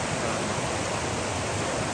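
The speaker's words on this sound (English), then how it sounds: "But all this right here is just rapids." Rushing river rapids and small waterfalls near Lake Louise in Banff, a dense, steady broadband roar of churning water, loud and continuous with no voices.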